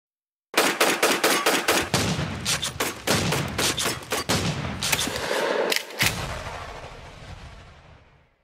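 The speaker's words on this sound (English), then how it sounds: "A gunshot on Miodova." Gunshots crack in rapid, dense bursts of fire, loud and sharp, continuing for several seconds before trailing off into echo, with no talking.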